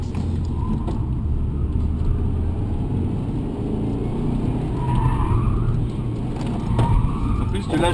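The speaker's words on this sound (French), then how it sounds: "Du drift." A BMW drifts with its tires skidding and the engine roaring, a loud continuous rumble and screech heard from close by, with people talking over it.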